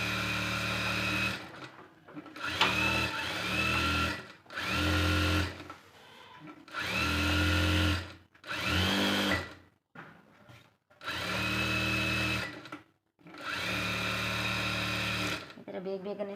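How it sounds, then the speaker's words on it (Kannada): An electric sewing machine stitching blouse fabric runs in about eight loud, close bursts of rapid whirring, each lasting a second or two, separated by brief pauses. "ನೆಕ್ಸ್ಟು ಈ ಥರ ಇದನ್ನು ಕೂಡ ಸ್ಟಿಚ್ ಮಾಡಿ"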